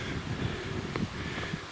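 Strong wind gusts buffet the microphone on open upland hills near Auchope Cairn, a steady rough rumble with brief louder bursts, no talking.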